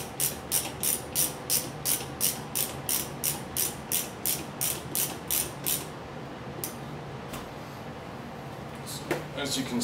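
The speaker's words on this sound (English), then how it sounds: "I'm going to get my screwdriver for this. These just screw in like so." A ratcheting screwdriver drives screws into the stand of an LG 29UM58-P ultrawide monitor, with a steady run of about fifteen rapid clicks, then scattered handling knocks, close and crisp.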